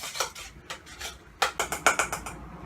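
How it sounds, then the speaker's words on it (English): Softened room-temperature butter stirred in a bowl, a close series of scraping, rubbing strokes that come in short bursts and grow brisker toward the end, with no talking. "with my softened butter at room temperature, I'm going to just stir it slightly to soften it up and loosen it up"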